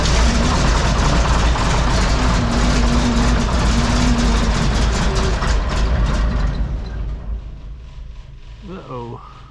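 An engine idles loud and rough in a shop after a cold start, a steady heavy rumble that fades down after several seconds, leaving faint background sounds.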